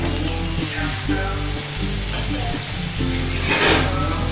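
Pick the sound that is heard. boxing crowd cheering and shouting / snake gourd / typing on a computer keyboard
snake gourd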